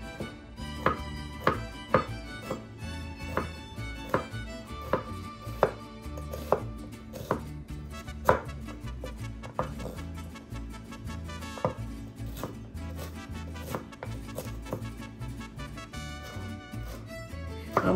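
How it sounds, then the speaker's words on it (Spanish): Garlic being chopped with a knife on a cutting board for Mexican-style vegetable rice, a steady run of close, crisp knife taps at an even brisk rhythm with occasional louder strikes, no talking over it. "Vamos a empezar a picar las verduras que vamos a ocupar en este arroz. Vamos a empezar con el ajo."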